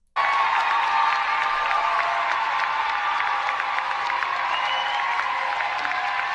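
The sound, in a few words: crowd applauding and cheering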